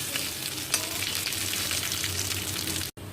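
Dry red chilies stir-fried in a hot pan with chopped garlic, a bright, constant close sizzle broken by a few sharp pops, stopping abruptly for an instant before continuing.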